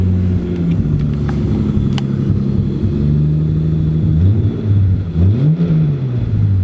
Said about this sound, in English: Still definitely an issue with misfire, but it revs, it's misfiring.